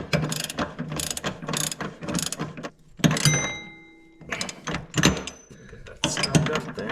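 A hand ratchet clicks in quick repeated strokes while snugging a bolt on the air spring mount of a 1995 Honda Goldwing trike, several close bursts separated by short pauses and a metallic ring.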